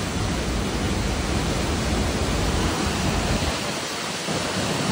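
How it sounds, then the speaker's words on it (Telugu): Waterfall in Wayanad roaring as a loud, steady broadband wash of falling water, continuous and close throughout with no voices. "ఎంత బాగుంది తెలుసా వాటర్ ఫాల్"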